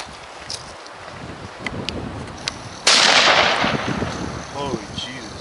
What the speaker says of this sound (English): I'm gonna shoot it with a 30-06